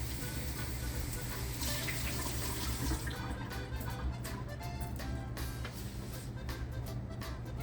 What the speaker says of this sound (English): And I'm gonna rinse it real quick.